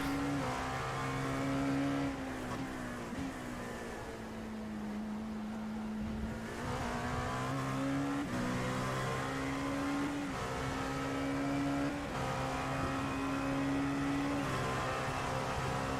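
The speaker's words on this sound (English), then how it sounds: "There's a little transmission whine in this car" A race car engine in iRacing drones steadily at high revs with a faint transmission whine riding above it, pitch rising and dipping through gear changes and corners, continuous and moderately quiet throughout.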